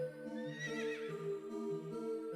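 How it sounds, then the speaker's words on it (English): Game horse whinny from Horse Magnifier: a single wavering neigh in the middle of the clip, ringing over a sustained tonal backdrop, clear and close with nobody talking. "Horse sound effect."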